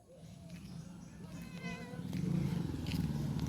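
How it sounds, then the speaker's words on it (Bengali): A cat purrs with a soft, low rumble that swells slightly, with a faint meow partway through, all quiet and close. "কই ম্যাও কই ওই যে ধপ্পা ম্যাও"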